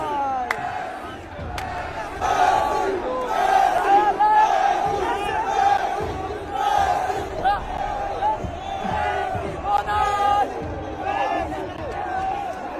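A stadium crowd at an Al Nassr versus Al Shabab football match chants rhythmically in unison at Ronaldo, a loud, massed, pulsing chant sustained throughout with crowd roar beneath.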